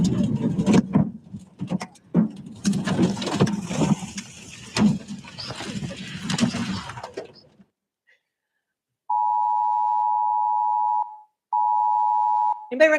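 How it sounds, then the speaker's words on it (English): People talk first, then after a short silence an emergency alert notification tone like an Amber Alert sounds as two long, loud, steady electronic tones separated by a brief gap. "Anybody recognize that tone? You heard that before? So that's, most people equate that with the Amber Alerts."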